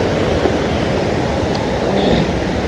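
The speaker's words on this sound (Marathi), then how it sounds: "काय वॉटरफॉल बघून घ्या" A large waterfall giving a dense, steady roar of falling water, loud and unbroken from start to finish, with no voices.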